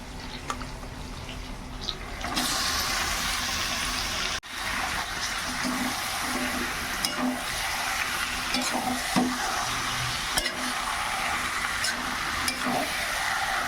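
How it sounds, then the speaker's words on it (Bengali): Meat frying in hot oil in a pan, a steady close sizzle with intermittent scraping and clinking as it is stirred, continuous after the meat goes in. "এবারে এইভাবে সমস্ত মাংসটা দিয়ে দেবো"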